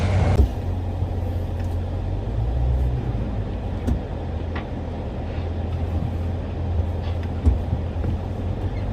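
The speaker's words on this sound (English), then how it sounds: "we are taking off hauling the Gulfstream in the 2021 Tundra" A 2021 Toyota Tundra pulls away towing a Gulfstream trailer, its engine a steady low rumble with a brief louder burst at the start and occasional knocks and rattles, close and continuous.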